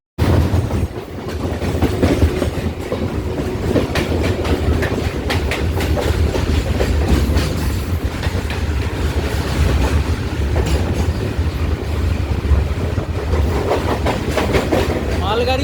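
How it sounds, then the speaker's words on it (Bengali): A goods train and a local EMU pass each other near Ramrajatala, with a loud, continuous rumble and rhythmic wheel clatter filling the whole stretch, close by and steady throughout. "মালগাড়ি ভার্সেস লোকাল ট্রেন।"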